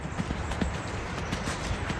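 Horse trotting during a private riding lesson, hooves clip-clopping in a steady, even rhythm close by, with no talk over it.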